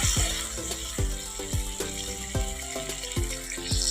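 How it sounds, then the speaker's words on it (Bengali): Water poured into a pan of soybean and potato curry, a steady splashing stream with repeated clanks and taps of a utensil against the pan in an uneven rhythm. "আর একটু জল দিয়ে দিলাম"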